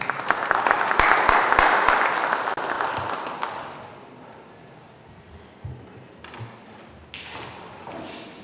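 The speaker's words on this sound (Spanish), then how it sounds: "Recibimos con un fuerte aplauso al doctor Hugo Castillo Ramos" An audience bursts into loud applause to welcome a doctor as a speaker at an evening session. The clapping peaks early, then thins out and fades to scattered taps and quiet room noise.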